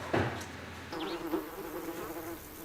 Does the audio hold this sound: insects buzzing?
yes